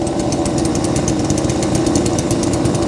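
A 52cc chainsaw running loud and steady right after a cold start, its engine roaring continuously and close by with a harsh, rattling buzz and no voices.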